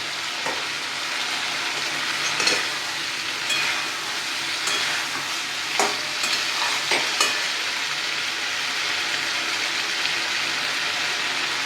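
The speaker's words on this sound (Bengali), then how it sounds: "এবার ভাজা মাছের টুকরোগুলো আমি এর মধ্যে দিয়ে দিলাম" Fried fish pieces drop into a garlic sauce and sizzle steadily in a pan, a close, even hiss punctuated by a few soft stirring knocks.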